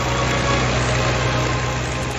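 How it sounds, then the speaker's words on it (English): Four Rolls-Royce Merlin 20 engines of an Avro Lancaster bomber run together in a steady, loud, droning roar with a dense low rumble and no break or talk. "he also relied on the Lancaster's key attribute, the 4 legendary Merlin engines mounted on its wings"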